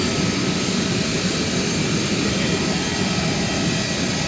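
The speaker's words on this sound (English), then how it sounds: "Get a look at that engine." Loud, steady roar of an Emirates Boeing 777ER jet engine at London Stansted Airport, a dense broadband rumble and hiss holding constant throughout with no pauses.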